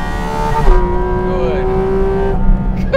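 Porsche Cayman GT4 RS engine winding up to very high revs, a loud, close tone climbing and holding with a metallic rasp, then cutting off as the throttle lifts.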